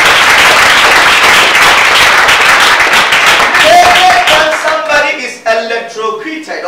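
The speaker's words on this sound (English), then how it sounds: "Can you clap for Jesus?" A congregation claps together in a dense burst that fades out over several seconds, with a voice speaking over the last part.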